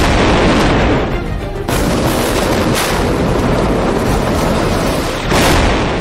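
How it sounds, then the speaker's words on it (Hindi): A loud, dense explosion-style rumble rolls continuously with a heavy low roar and several sharper booming surges, all close and unbroken, with no voices. "एक धमाका होता है, हजारों लाखों जानें तड़पने लगती हैं।"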